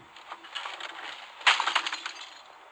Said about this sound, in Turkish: Kırdın. Bir şey kırıldı.